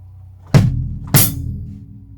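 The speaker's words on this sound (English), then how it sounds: "The hi-hat is going to hit with that second hit of the bass drum." Two drum hits about half a second apart, a low bass drum thump joined by a bright hi-hat on the second, ringing briefly.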